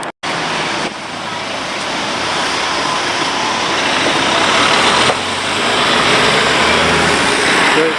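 Megabus coach 50240 pulling away at Victoria, London, its engine building into a loud, rising rumble close by after a brief cut at the start, with road traffic noise around it.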